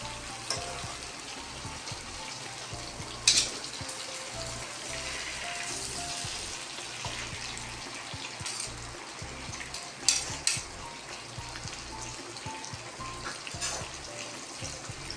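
Chicken tikka fries in a pan with a steady, close sizzle that carries on throughout, broken by a few brief clatters as the pieces are turned over.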